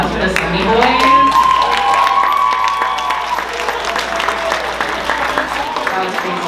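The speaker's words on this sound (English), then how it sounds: "Can we give another round of applause for the Sunny Boys?" An audience at a Korean club dinner event breaks into sustained applause with cheers and whoops, loud and close, gradually thinning out as a voice speaks over it.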